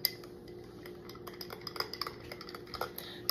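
A metal spoon clinks and scrapes against a cup while stirring a supplement drink, with light irregular taps and rattles, fairly close and without talk.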